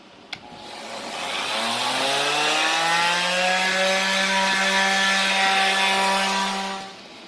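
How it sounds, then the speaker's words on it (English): Hand sanding on a wooden electric guitar body, a continuous abrasive rasp that starts abruptly, holds steady and close for several seconds, then stops. "do some sanding with the other"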